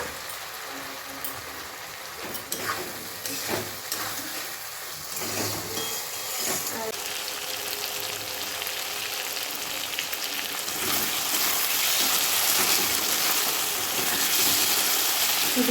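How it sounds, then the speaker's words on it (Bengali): Fried potato pieces stirred into hot masala in a pan, a continuous hissing sizzle that swells louder toward the end, with a few soft knocks of the spoon early on, close by. "এখন মশলাটা কষিয়ে নিচ্ছি, পাশে গরম জল বসে দিচ্ছি।"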